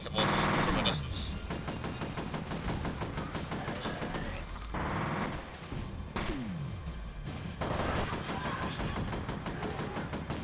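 Gunfire in the video game F.E.A.R. Extraction Point, dense bursts and single shots layered over game music and effects with voices through the whole stretch.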